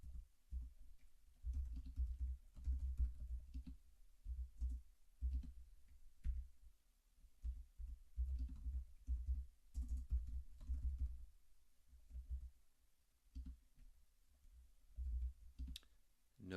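Code being typed on a computer keyboard comes through as bursts of soft, close key clicks separated by short pauses.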